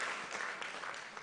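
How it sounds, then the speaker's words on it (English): An awards ceremony audience claps briefly, a faint, dense patter of many hands heard from a distance with no distinct voices. "Your claps for India."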